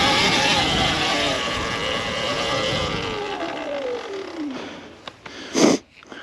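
A Surron Ultra Bee electric dirt bike climbs a steep hill with a loud, close motor whine that slowly falls in pitch and fades, followed by a short burst of noise near the end.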